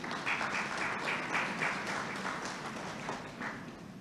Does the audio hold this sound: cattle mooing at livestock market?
no